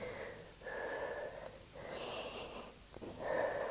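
Slow, controlled breathing during a morning Pilates exercise: several audible breaths in and out through the nose and mouth, soft and close, with brief pauses between them and no speech.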